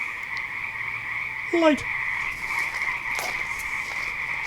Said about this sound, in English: There are frogs.